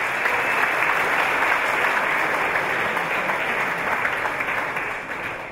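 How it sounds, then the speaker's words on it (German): Spectators at an Austrian bodybuilding championship awards ceremony give a sustained, dense round of applause that holds steady and then tapers off slightly near the end, with no talking over it. "Das verdient trotzdem einen Applaus eigentlich."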